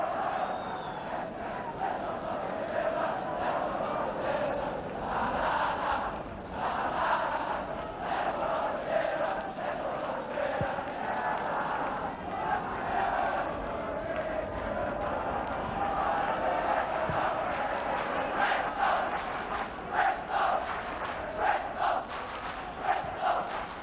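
Football crowd at Bristol Rovers against Aston Villa jeering a player, a steady broad roar of many voices with jeers swelling and falling, distant and continuous for the whole stretch.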